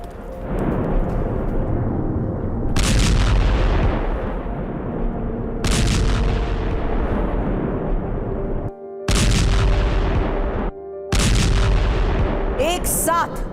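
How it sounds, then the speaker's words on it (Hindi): Several heavy bombing explosions boom across Khan Younis in southern Gaza, each a loud sudden blast with a long rumbling decay, spaced a few seconds apart. "खान यूनिस के बड़े इलाके में बमबारी हुई है।"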